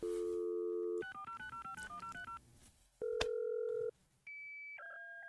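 Telephone dialing to a BBS in Last Call BBS, with sustained dial tone, a quick run of touch-tone beeps, then further tones and modem-like pitched signals in clean, distinct steps.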